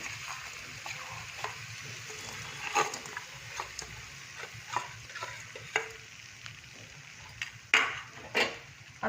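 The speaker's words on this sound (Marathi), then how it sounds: "आता आपल्याला तुपामध्ये गूळ टाकून मिक्स करायचं आहे" Jaggery being stirred into hot ghee in a pan over medium heat for sesame laddoos, with a soft sizzle underneath and repeated scraping strokes of the spoon against the pan at an irregular pace.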